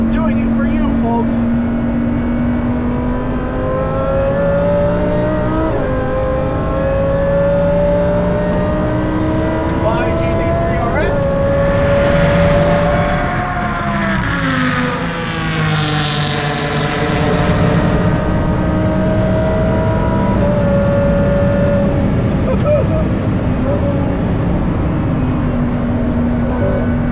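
A supercharged 870 hp Lamborghini Huracan Performante drives hard on a race track, its engine wailing loud and close as revs climb and fall through gear changes, with a brief louder burst midway.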